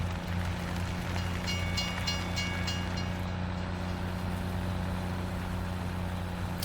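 A train running in the video game Farming Simulator 17: a steady, continuous rumble of rolling rail cars with a low hum, plus a brief series of short tonal beeps early on, no speech.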